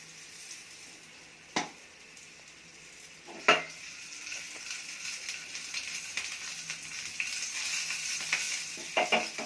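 Frying in oil in a pan while making burugulu uggani, a soft steady sizzle with stirring scrapes and a few sharp clinks of a utensil against the pan, no talking.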